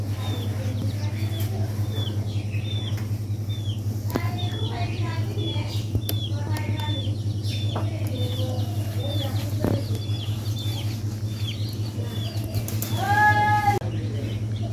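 Village chickens cluck and chirp in scattered short calls over a steady low hum, moderately close throughout.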